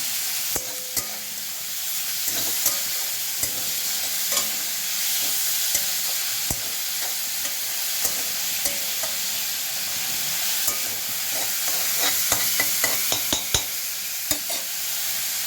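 Soybean and chana dal frying with turmeric in a pan, a steady close sizzle broken by frequent sharp scraping stir clicks, with no talking.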